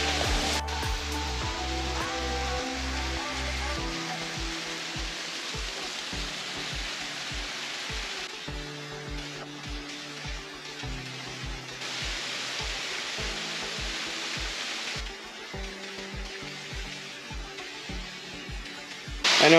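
A small, high waterfall on a hike to Lower Stevens Lake in Idaho, a thin stream falling a long way, gives a steady, close rushing hiss that carries on alone with no break.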